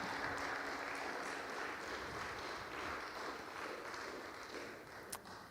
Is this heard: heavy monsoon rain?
no